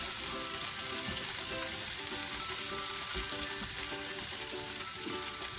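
Small vegetable florets frying in a pan for leftover fried rice give a constant loud sizzle with a faint rhythmic stirring tap, no talking.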